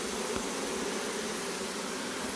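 Honey bees swarm around their queen in a hive, a dense, continuous buzzing hum that holds steady at close range with no voices over it.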